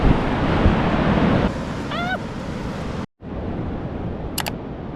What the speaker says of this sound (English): we're at the Pacific Ocean right now, which is really cool